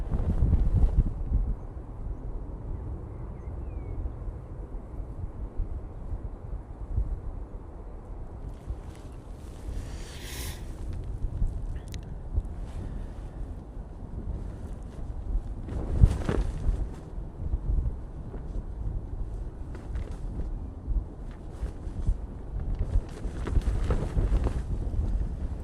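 Breezy wind buffets the microphone outdoors at Manchester Airport, a continuous low rumbling roar with gusty swells and a few brief bursts of hiss, no talk heard.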